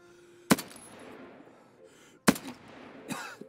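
Two sharp, close gunshots in Escape from Tarkov ring out with a pause between them, each followed by a brief decaying tail, plus faint noises after.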